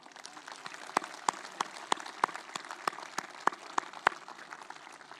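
Scattered audience applause, a fairly thin crowd clapping in loose, uneven bursts that keep going steadily throughout at moderate volume, with no voices over it.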